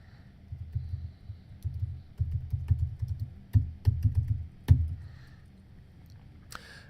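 Keystrokes clatter on a computer keyboard as a search is typed, arriving in quick bursts and short runs with brief pauses between them, close and fairly soft, with a few sharper clicks standing out.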